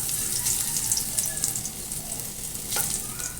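Ginger frying in a pan as the first step of a mung bean (monggo) stew, giving a steady, close, bright sizzle with faint crackles and no talk.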